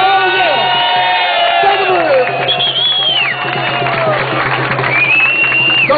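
Crowd cheering and whooping at a festa junina in Praça São Salvador, a loud festive roar from a close outdoor audience that carries on throughout while an amplified voice talks over it.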